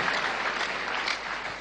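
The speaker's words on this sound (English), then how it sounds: "Can you clap better to the glory of God?" A congregation at a Sunday church service gives a steady round of dense applause. It sounds moderately loud and fairly distant, with no voices standing out.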